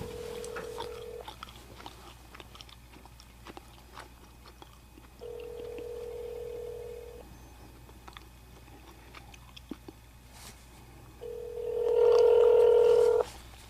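A phone on speakerphone calls a friend and gives three long ringback tones separated by pauses, while faint clicks and crunching handling noises sit between the rings.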